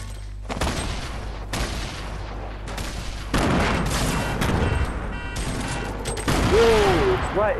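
Bursts of gunfire ring out in a Fortnite squads match, repeated volleys of shots in quick succession, loud and close, with game sounds layered beneath and a voice calling out briefly.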